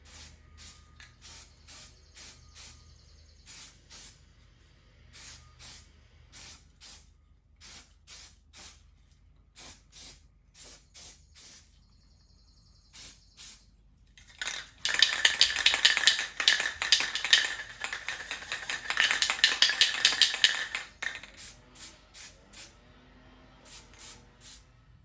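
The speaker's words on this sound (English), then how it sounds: "Just doing a quick primer coat." Hissing bursts of a spray can applying primer to carved wooden redhead duck decoys, a run of short repeated puffs followed by a longer sustained spray, then more short bursts, loud and close.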